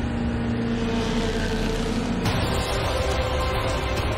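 Audi and Peugeot Le Mans prototype race cars thunder past at speed in traffic, a loud continuous engine roar that shifts in tone midway as one car gives way to another, with no voices.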